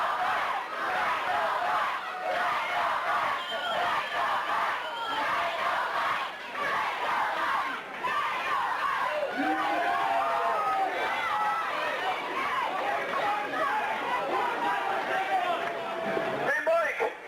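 Crowd at an indie wrestling show cheering and yelling without a break after a disqualification finish, a loud, dense roar of voices that stays steady throughout.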